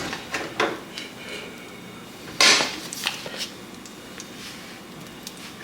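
A cast iron skillet handled in a home kitchen while preparing carne asada tacos, with a few light metallic clanks and one sharper knock, moderately close amid quiet room tone.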